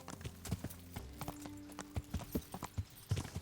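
Horse hooves clip-clop in steady rhythm in the medieval role-playing game Kingdom Come: Deliverance, a close, continuous run of hoofbeats with a faint tonal hum underneath and no talking.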